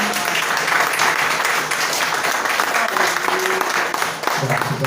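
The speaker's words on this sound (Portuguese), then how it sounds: "palmas bem fortes para o Senhor Jesus." A Pentecostal church congregation applauds loudly and continuously, a dense, even roar of many hands clapping that fills the room throughout with no break.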